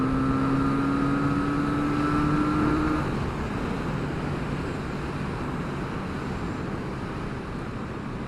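Kawasaki Z900RS motorcycle riding past other vehicles, a steady engine drone with a rising tone that fades into broad road and wind roar, loud and continuous with no talk.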